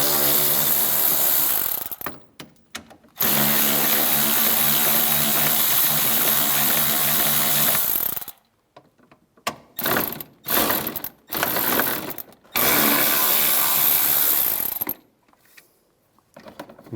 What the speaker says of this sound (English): Now use a 7mm socket and take these 4 screws out.